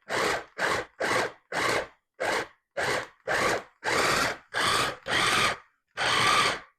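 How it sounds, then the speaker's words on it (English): A food processor pulses a raw vegan burger mixture in about ten short bursts, each a loud, close whirring chop lasting under half a second, separated by brief silences. "you're going to just pulse it until it gets that meat like consistency"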